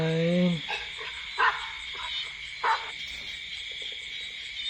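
A dog barks a few times in short, separate bursts around a home, with a person speaking briefly at the start and steady insect chirping in the background.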